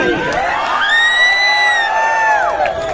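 A large, packed crowd in a Raipur cinema hall cheers and whoops loudly and continuously, with rising shouts and yells filling the space at close range.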